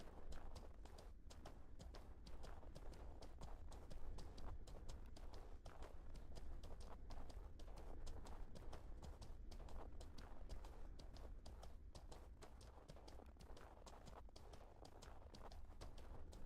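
Rapid, steady hoofbeats of a galloping horse in a video game, Mortal Online 2, continue throughout, fairly quiet and uniform, with no talking.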